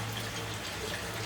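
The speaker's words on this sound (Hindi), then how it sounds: "I poured so much of water to it" Water poured steadily into a pan of halwa while cooking, a continuous close splashing hiss with a low hum underneath and no talk.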